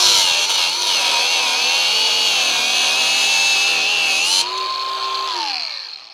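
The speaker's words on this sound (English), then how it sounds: "We're just gonna grind it in two." A grinder cuts through a metal shaft with a loud, continuous high-pitched grinding whine that runs steadily, then its pitch shifts and winds down toward the end.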